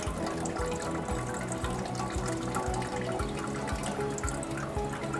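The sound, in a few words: water rinsing homemade butter while straining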